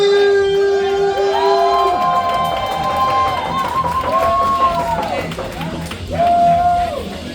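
A crowd of around 300 roars and cheers as a fighter called The Green Knight makes his entrance, loud sustained whooping and shouting over an announcer's voice and music.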